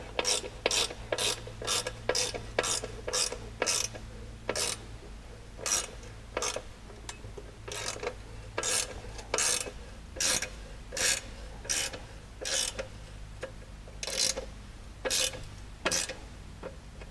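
A ratchet clicks in quick repeated bursts while bolts are snugged on a Ricochet A-arm skid plate, with short pauses between strokes, close and fairly quiet.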